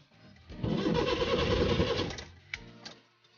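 A Maruti 800 car engine being started off a motorcycle battery: a starter motor cranks steadily for about a second and a half, then cuts off, followed by a couple of faint clicks.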